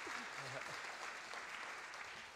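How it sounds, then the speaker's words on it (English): Applause from a crowd at a talent show grand finale in a Melbourne theatre, steady and continuous throughout, with some voices and pitched sounds underneath. "Big round of applause."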